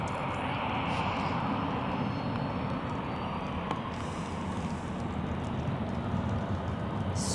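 Boeing 737 on its long takeoff roll down runway 14 at Zurich Airport, a steady broad engine roar holding loud and constant throughout with no voices.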